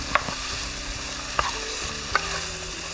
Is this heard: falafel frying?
yes